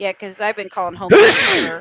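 A single sharp sneeze bursts out right after a man's speech, loud and close, during a casual wrestling recap conversation.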